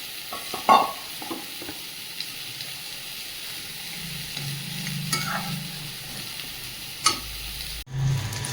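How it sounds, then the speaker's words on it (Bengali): A fish head goes into a hot pan for a Bengali fish curry: a sharp clatter and clink, then a low, steady sizzle builds and fries alone, with a brief metallic tick near the end. "এবার মাছের মাথাটা দিয়ে দেবো।"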